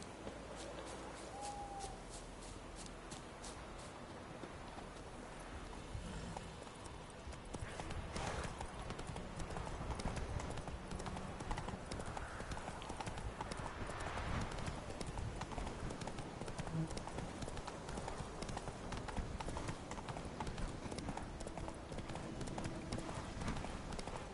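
Horse hooves clip-clop steadily in The Witcher 3 on PS5, a continuous rhythmic trot that quickens after a few seconds and carries on under ambient game sound, moderately loud throughout.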